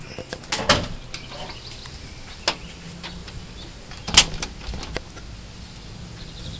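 Front door of a house opening to go outside into a yard: a couple of handling clunks and a latch click with light rustling, birds chirping faintly in the background.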